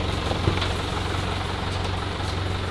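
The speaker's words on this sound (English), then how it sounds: "And the tow trucks are here." Tow truck engine idling at a farm, a constant low diesel rumble filling the whole clip, loud and close, with no talking.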